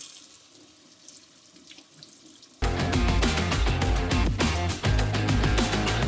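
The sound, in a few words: washing a lobster tail under running tap water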